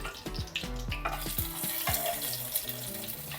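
Hot curry-leaf seasoning is spooned over cucumber, beetroot and pumpkin pachadi for a Kerala sadya, giving a steady wet, splashy sizzle over background music.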